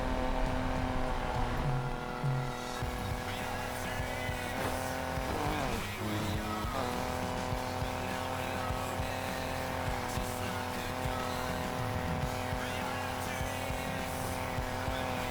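A race car's engine roars steadily at high revs throughout a street race in Need for Speed Payback, with gear shifts, pitch swings and brief tire squeal midway, loud and continuous with no talking.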